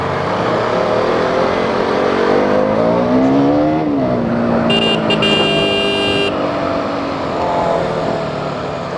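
A KTM Duke 200 motorcycle engine drones loudly and steadily while riding, its pitch rising and then dropping as it changes speed, with a brief high electronic tone partway through.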